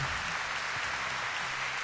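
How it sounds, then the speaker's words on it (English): Steady crowd applause in the Steins;Gate visual novel, a dense, even wash of many hands clapping throughout, with faint background music underneath. "Would they stop the dumb clapping sound?"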